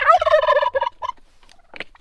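A turkey in a backyard chicken and turkey tractor lets out a loud, close, warbling gobble, followed by a few softer scattered calls and then quiet.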